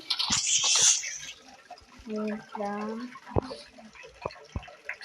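Water is poured in Minecraft Java Edition, a short splashing rush at the start followed by a few game clicks, while a person talks over part of it.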